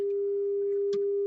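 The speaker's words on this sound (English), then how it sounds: "a sine wave going into your item." A steady, pure sine-wave test tone plays through an amplifier, holding one constant pitch throughout with a faint brief click partway through.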